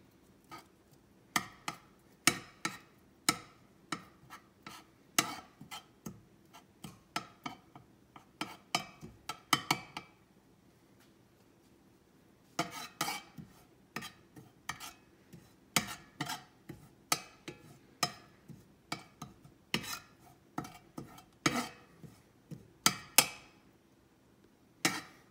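Butter and parsley mixed in a bowl make irregular sharp ticks and clinks of a utensil against the bowl, close and clear, with a brief pause midway.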